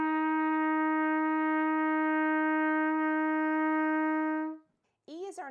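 A trumpet holds one steady, bright note, F, for over four seconds before it fades out. A brief spoken voice follows just after.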